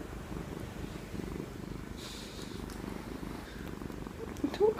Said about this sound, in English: In spite of all his purring, he's actually very unhappy.